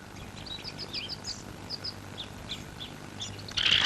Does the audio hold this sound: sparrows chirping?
yes